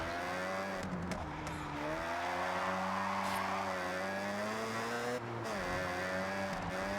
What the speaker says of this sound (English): Not a fan of this engine sound, that's for sure.